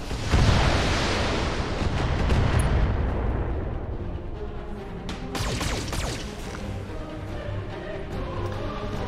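Weapons fire in BattleTech rumbles in heavy booming blasts, a loud dense barrage at first, then scattered sharper impacts and crashes over a low mechanical drone.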